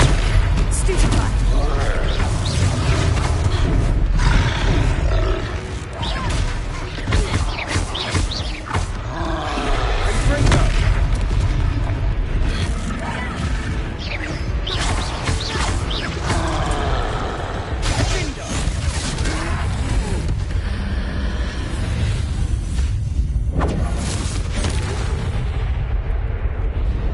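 A troll fight rages in the Hogwarts Legacy video game, with continuous loud roars, heavy booming impacts and blasts layered over a dense battle soundtrack. Voices break in throughout the commotion.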